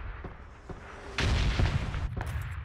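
Bombardment explosions in the battle royale game PUBG: a quiet stretch with a few distant thumps, then a loud, sustained rumbling blast that rolls on with heavy low-end crackle and a couple of further booms.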